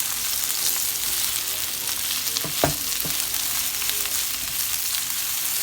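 Onions sizzle and fry in hot oil for chicken biryani, a steady soft crackle at close range with a couple of brief sharper pops of stirring partway through.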